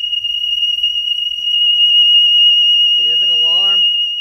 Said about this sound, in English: it is an alarm.